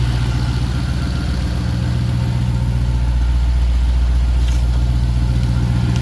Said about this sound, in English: I got this exhaust leak on this side that I need to get that figured out